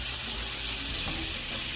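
Food stirred in a frying pan, a dense continuous sizzle with brief scraping movements of the utensil, close and fairly loud throughout the short moment.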